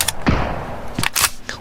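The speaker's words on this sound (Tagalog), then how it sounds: "Nakikipagpalitan ng putok ang Team 17." Gunfire exchange in the video game PUBG, a handful of sharp separate shots and short bursts spread irregularly, fairly loud and close.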